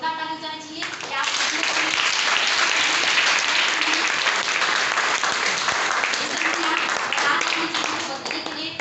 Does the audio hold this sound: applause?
yes